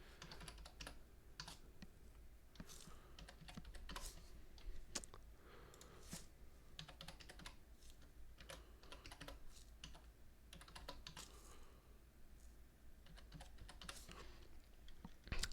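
Quiet, steady typing on a computer keyboard as an email address is entered, rapid irregular key clicks continuing close by for the whole stretch without speech.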